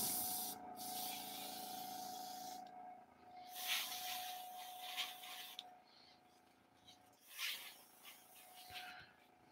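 Airbrush spraying paint onto a Walthers plate girder model bridge, a soft steady airy hiss in long stretches with brief pauses and a faint constant tone beneath, quiet and close.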